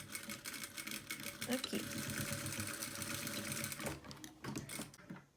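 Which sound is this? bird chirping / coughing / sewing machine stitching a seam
sewing machine stitching a seam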